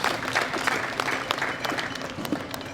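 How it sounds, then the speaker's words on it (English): An audience at the World Classic Powerlifting Championships claps for the medalists, a steady, moderately loud burst of applause with sharp individual claps standing out. "Give them a big round of applause."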